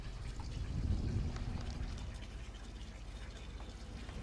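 Water sloshing and splashing as it is bailed out of a boat beside a davit line and pulleys, a steady wet churning that swells in the first two seconds and then settles into softer continuous splashing.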